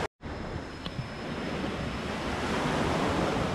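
Surf rolling onto a beach on Sapi Island, Malaysia: a broad steady wash of breaking waves after a brief silent gap, building slightly louder, close and continuous with no voices.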